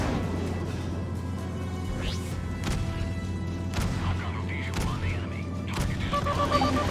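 Missile hit in the space combat game Freelancer, sharp explosive cracks and bursts over a low engine drone, with several impacts scattered through and electronic tones near the end, no talk.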